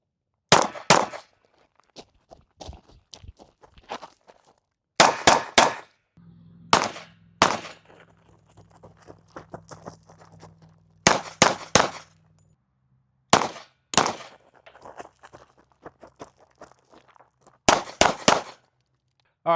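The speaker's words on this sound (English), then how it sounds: "So now that we're shooting these, I'm feeling the 45 is definitely kicking more." Pistol shots from an HK VP40 in .40 and a Springfield XD45 in .45 fired at a range, coming in loud sharp bursts of two to four rapid cracks separated by pauses of a few seconds, with a low hum under some gaps.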